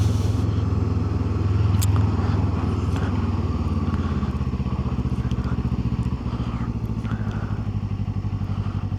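A Kawasaki Ninja 7 HEV hybrid motorcycle on the road, its engine giving a loud, steady buzzing drone close up throughout, with a slight swell early on and a faint clatter now and then.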